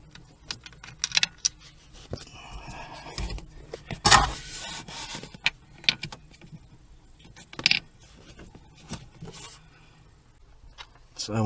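Close, quiet metallic clicks and ratcheting from loosening the three bolts on a Vauxhall Astra accelerator pedal, irregular tool taps and rattles with gaps between them and no voices.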